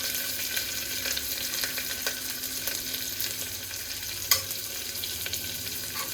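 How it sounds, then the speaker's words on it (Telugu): Onions frying with curry leaves and spices in hot oil, a steady dense sizzle with occasional stirring clicks and one sharper pop, close by and continuous with no talking. "తర్వాత ఆనియన్స్ వేసేసి ఆనియన్స్ గోల్డెన్ బ్రౌన్ వచ్చే వరకు ఫ్రై చేసుకోవాలి."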